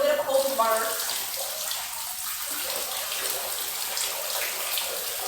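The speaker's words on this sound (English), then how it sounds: "So I like to also put this on my face directly, cold water" Cold tap water runs and splashes onto a face during a morning routine, a steady close rush of water that starts after a short spoken moment and continues to the end.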